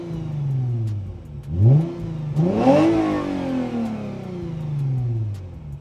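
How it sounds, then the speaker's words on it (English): A Lexus IS350 F-Sport engine revs hard twice, each time rising to a high, whining intake pitch and then falling away, heard close-up from inside the car with no talk. "when you're driving hard, you'll hear that whining noise. It's your intake."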